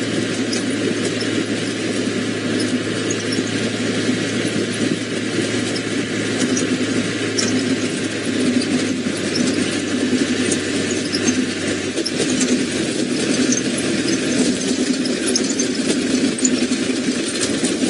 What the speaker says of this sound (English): Sorry, Faith, I couldn't hear you over the sound of the engine